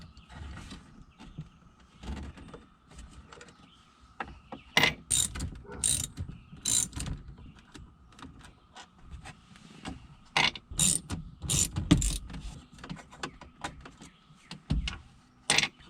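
An 8 mm socket wrench ratchets out the shifter bolts in a Mustang, quick clicking bursts and metallic clanks coming in irregular clusters, close and fairly quiet.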